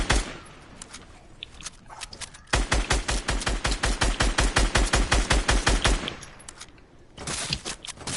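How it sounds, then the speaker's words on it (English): Automatic gunfire from an enemy in the video game Final Fantasy XV: a long, loud, evenly paced burst of rapid shots, with scattered single shots and quieter game sounds before and after. "he's shooting at me. From the top."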